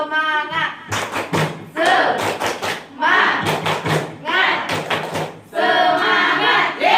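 A class chants Tepuk Semangat together, their voices rising and falling in a rhythmic call while sharp claps and thumps land in quick bursts between phrases.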